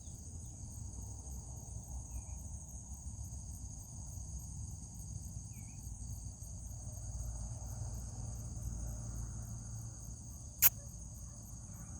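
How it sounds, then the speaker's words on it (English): Steady cricket chirping, a rapid high pulsing trill that repeats evenly and continuously over a quiet background hum, with one brief sharp click near the end and no talking. "You are determined to find that cricket."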